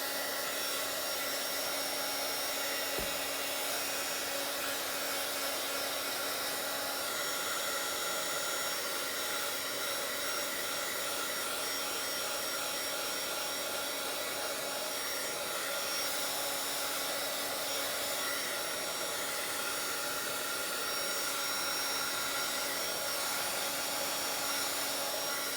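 A hair dryer blows steadily for nearly half a minute, drying a wet mixed media art page, its loud constant whooshing roar close by with only slight shifts in pitch as it moves over the paper.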